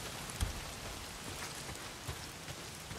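Steady, heavy rain pours down throughout in Days Gone, a dense even patter with a few louder drops or gusts and no voices.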